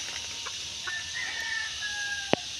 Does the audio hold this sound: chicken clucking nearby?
yes